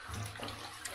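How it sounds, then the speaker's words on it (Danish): Water drains out of a bathtub as a close, continuous gurgling rush, steady for the whole brief moment with no voices. "Vi kan starte med at lukke vandet ud"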